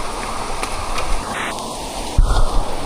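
Heavy rain runs as a steady, broadband rush of water through a drainage canal beside the ground, close and continuous, with a louder low surge near the end.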